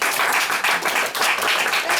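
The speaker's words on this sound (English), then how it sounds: "Please applaud." An audience at a speaking club meeting applauds, a short, dense burst of clapping from a small crowd, close and steady, dipping briefly before carrying on.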